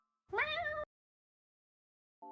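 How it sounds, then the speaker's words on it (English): A domestic cat gives one clear, drawn-out meow up close indoors, followed after a pause by the brief start of a second sound at the very end. "my cat is meowing"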